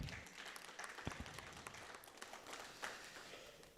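Audience applause at an opening ceremony in Conakry, a steady wash of clapping from a crowd, moderately faint and continuous, with a few louder claps standing out near the start.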